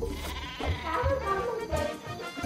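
Bleating sheep weapon from the video game Worms Armageddon, a few wavering cartoonish baas repeating over a couple of seconds, fairly close and clear with no talk over it.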